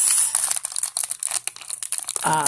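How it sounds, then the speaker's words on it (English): Close, crisp crinkling and scissors snipping through plastic packaging of Japanese sweets in quick irregular bursts, ending with a louder rustle. "So I'm going to take my scissors and carefully cut"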